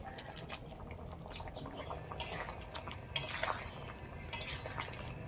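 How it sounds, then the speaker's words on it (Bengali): Fried eggs go into a pot of potato curry with water added and potatoes still simmering, giving a few light metallic clinks of a utensil against the cooking pot over a faint, steady background. "আলুটা সিদ্ধ হতে একটু বাকি আছে, এই সময় দিয়ে দেবো ভেজে রাখা ডিমগুলো।"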